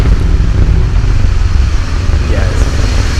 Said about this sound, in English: Liftoff to the Atlas NRO 101 mission for the National Reconnaissance Office.